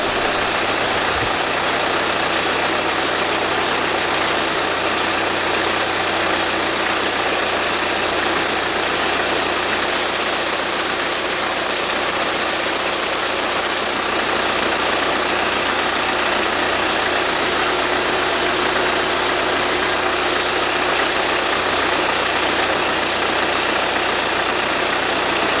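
An Audi A4 8E with about 254,000 km idles close up. A steady, loud engine drone carries a persistent whirring, rattling noise from a worn ribbed-belt tensioner pulley, with no voices present.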